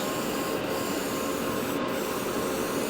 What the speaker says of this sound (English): I really like the way this brush sprays.